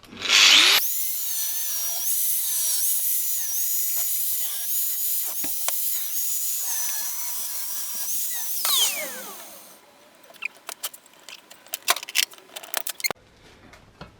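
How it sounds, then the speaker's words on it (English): Drill boring a hole through the curved metal edge of a car boot lid. A steady high whine runs for about eight seconds and winds down, followed by scattered clinks and handling knocks. "The most difficult part actually is similar to this one, is making a hole on a curved edge. So I'm going to do that now."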